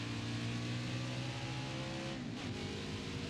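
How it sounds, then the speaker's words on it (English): Several race cars idle and rev on pit road in the NASCAR Heat 5 racing game, Xfinity Series, a dense steady engine drone with layered low tones throughout, close and loud with no talk. "Cars getting on pit road, cars coming off pit road."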